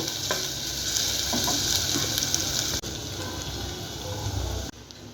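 A medium-sized onion fries in hot oil in a pan for khichuri and is gently stirred, giving a steady, loud sizzle with soft scraping movements and no talking.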